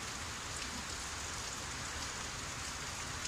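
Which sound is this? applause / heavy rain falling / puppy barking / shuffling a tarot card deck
heavy rain falling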